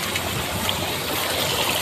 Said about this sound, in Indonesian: Air mengalir lewat sini.